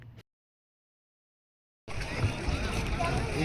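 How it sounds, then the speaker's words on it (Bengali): Boat setting off on the river at Magh Mela, Prayagraj, with passengers in life jackets: after a brief cut to silence, a steady broadband rush of motor and water starts up and continues, close and fairly loud. "আর দেখো আমাদের বোট চলতে শুরু করলো"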